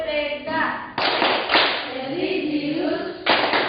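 A school class claps the PPK rhythmic clap together, bursts of sharp hand claps in a patterned beat close by, with voices chanting along between the claps.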